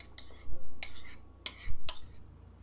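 Diced cucumber tipped into a large bowl already holding cauliflower rice, making a few quick clattering spills and light clinks against the bowl, four short bursts close by.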